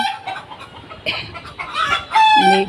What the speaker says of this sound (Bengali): সবগুলা মুরগি দেখেন কেমন ডাকাডাকি করতেছে